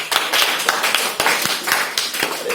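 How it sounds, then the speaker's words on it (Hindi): Students in a classroom clap together during a geometry lesson, a short burst of quick, uneven handclaps close by and fairly loud. "तालियां।"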